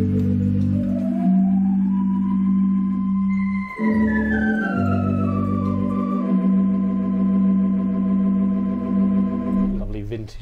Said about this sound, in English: And then we have the lovely tibia